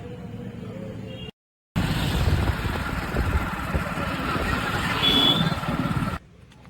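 Motorcycle ride to the Khajuraho temples, a close engine running with a rumble and rushing wind noise, steady and loud apart from a brief cut.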